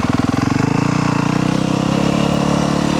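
A Yamaha YZ250F dirt bike engine runs loud and close with a steady, buzzing four-stroke drone that pulses rapidly throughout, holding a fairly even pitch with no voices over it.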